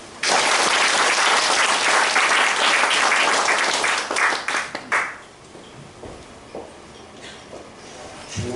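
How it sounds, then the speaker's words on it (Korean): A church congregation breaks into loud, full applause that sustains for about four seconds, then thins into scattered claps and fades to quiet room tone. "박수 한번."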